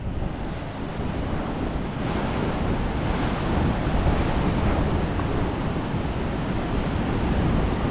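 Huge ocean waves pound the shore at North Stradbroke Island, Australia, as a loud, unbroken roar of surf, heavy wind buffeting the microphone throughout, no voices.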